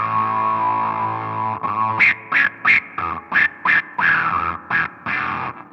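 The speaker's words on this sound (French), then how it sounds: "L'effet canard." An electric guitar runs through a quacking duck-effect pedal, playing a held note and then a rhythmic run of about ten short, distorted, nasal quacks, close and loud with no talking.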